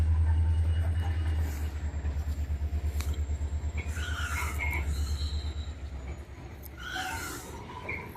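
Norfolk Southern locomotive #304 hauling a Susquehanna Railroad grain train past close by, a heavy low diesel rumble with a rapid rhythmic clatter of wheels over rail joints, fading slightly as squeals and rattles come through.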